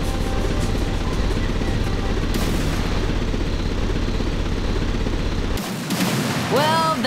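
Shooting from a hovercraft in Beyond Good and Evil: a dense, loud barrage of rapid bursts and booms over a steady engine drone, cutting off abruptly near the end before rising swooping tones take over.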